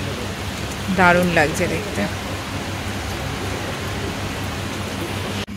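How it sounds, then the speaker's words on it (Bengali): Steady rain pattering outdoors at an offbeat hill spot in Kalimpong, a constant even hiss throughout while someone speaks briefly near the start. "এই চেয়ারে বসে দারুণ টুপটাপ টুপটাপ টুপটাপ বৃষ্টি"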